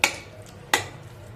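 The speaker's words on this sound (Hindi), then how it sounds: "अब हम इसे अच्छे तरीके से लो फ्लेम पे 10 मिनट के लिए लगातार चलाते हुए भुनेंगे।" Semolina roasting in a pan over a low flame for halwa, with two sharp scraping clinks of a spoon against the pan about a second apart and a quiet background between them.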